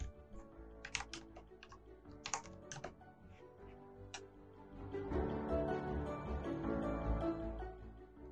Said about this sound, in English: Type the letter M plus the 8 numbers following.